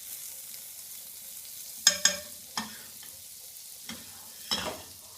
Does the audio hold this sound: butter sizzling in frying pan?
yes